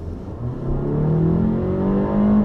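A car engine revs hard on an empty road, the tone climbing steadily toward redline in one loud, sustained pull close to the microphone.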